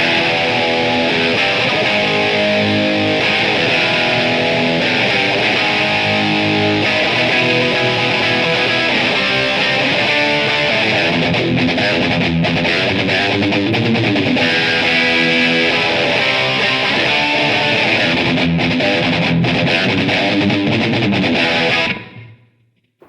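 Distorted electric guitar with a chorus effect, dialed in for a specific tone through a NAM amp profile, plays a dense, loud, continuous riff for over twenty seconds before cutting off abruptly.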